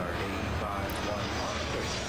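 An airliner engine drones steadily during takeoff in the airport game Airport Madness World Edition, a continuous roar under a voice speaking over it.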